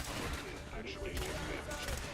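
Rapid bursts of video-game gunfire crackle fairly faintly in a steady, dense stream, with no clear pauses across the short stretch.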